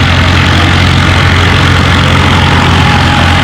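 Minneapolis Moline G tractor engine at a tractor pulling event, a loud, steady, rumbling roar that fills the whole moment without letup and has no talk over it.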